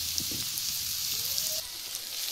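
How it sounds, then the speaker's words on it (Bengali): Onions fry in a pan over a wood-fired clay stove, giving a soft, even sizzle and hiss that runs unbroken from start to finish, fairly faint and without voices. "পেঁয়াজটা ভাজা চলছে, পেঁয়াজটা সুন্দর করে ভেজে নেব।"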